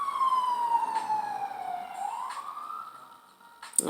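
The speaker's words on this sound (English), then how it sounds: "Just wanted to wait for the siren to go away." An emergency vehicle siren passes outside, its steady wailing tone sliding down and then rising again, moderately loud and alone with faint traffic beneath.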